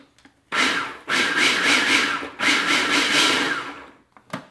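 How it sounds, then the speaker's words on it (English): A food processor pulsing butter with white granulated sugar, three loud whirring bursts of roughly a second each separated by brief gaps, close and alone. "I'm just going to put this on and give it a good pulse"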